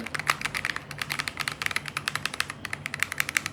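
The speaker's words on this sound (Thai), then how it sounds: "อย่าฟังเสียงคีย์บอร์ด" Rapid, steady typing on a mechanical computer keyboard with unknown switches, a dense run of crisp clicking keystrokes close up, with no talking.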